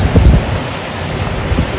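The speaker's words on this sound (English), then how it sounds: "It's still raining a little bit" Steady rain keeps falling after a thunderstorm, a loud close hiss of drops on surfaces with a few low thuds near the start and no voices.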